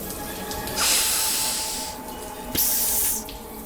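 A shower runs with a steady broadband hiss of spraying water, swelling louder twice as the flow shifts, with a brief knock partway through, heard close up in a bathroom.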